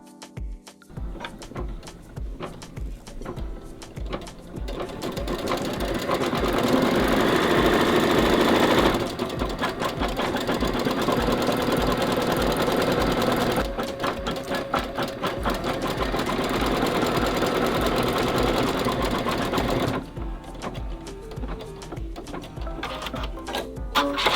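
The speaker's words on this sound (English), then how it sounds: "we're going to go back to the machine, put the hoop back on, and we're going to stitch a zigzag stitch around those" Embroidery machine running steadily as it stitches a zigzag stitch around an appliqué in the hoop, a loud continuous mechanical whirr with rapid needle chatter, briefly pausing near the end before resuming.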